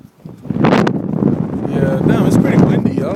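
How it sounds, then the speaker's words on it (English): Strong wind buffets the microphone with a steady low roar that swells and gusts throughout, and faint voices can be heard beneath it. "it's pretty windy"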